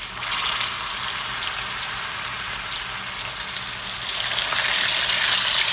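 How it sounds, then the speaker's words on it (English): White meal hot water cornbread patties fry in hot oil, giving a constant bright, hissing sizzle that stays even and close throughout, with no one speaking. "leave them frying."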